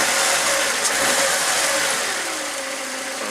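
A Toyota Tarago with a sticking throttle valve cable revs its engine, a loud, close mid-pitched roar that rises and then settles, running steadily throughout with no talk.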